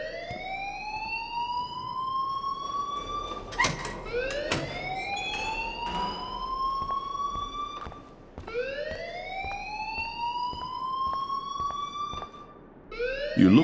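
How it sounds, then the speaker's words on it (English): In the video game Life is Strange, a school alarm wails in repeated rising siren sweeps, each cycle swelling and cutting off, loud and continuous with brief clacks and thumps between. "please turn off that alarm since that's your job."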